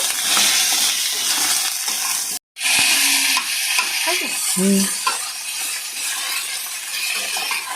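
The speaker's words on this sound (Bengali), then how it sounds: "পটলটাকে এভাবে একটু ঘুরিয়ে ভেজে নেব।" Pointed gourd (potol) stir-fried with turmeric and salt sizzles close by while a utensil scrapes and turns the pieces; a brief dead gap breaks the sound partway through before the frying and stirring resume.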